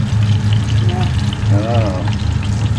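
Pork-stuffed tofu browning in hot frying oil, a steady close sizzle and crackle running throughout with people talking over it.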